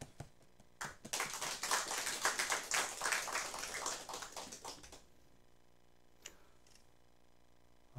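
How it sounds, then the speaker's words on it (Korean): A church congregation at a Christmas Day service claps to welcome the pastor, a quiet, distant burst of applause lasting about four seconds before dying away, followed by near silence with a couple of stray taps. "우리 목사님 나오실 때 큰 박수로 한번 환영을 해 주시면 좋겠습니다."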